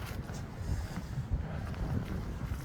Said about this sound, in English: Not in this cold and wet wind.